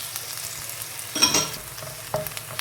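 Half a finely chopped onion frying in a pan, a low steady sizzle with a couple of sharper stirring scrapes, close and fairly quiet, with no talking.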